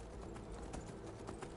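Hooves of a horse in a survival video game clip-clop in a quick, even rhythm of muffled thuds over a steady dense background, continuous and fairly close with no talk.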